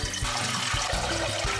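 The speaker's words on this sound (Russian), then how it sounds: "Наливаем воду." Tap water runs steadily into an empty cooking pot in a home kitchen, a continuous splashing, gurgling pour heard up close and alone for under two seconds.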